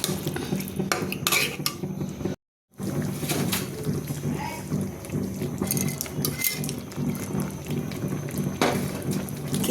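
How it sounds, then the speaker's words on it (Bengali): Bang fish frying in a pan in a home kitchen, with a steady sizzle under repeated scraping and clinking of a utensil against the pan, broken once by a brief silent gap. "এখন আমি বেশ করে সটে করে নেব।"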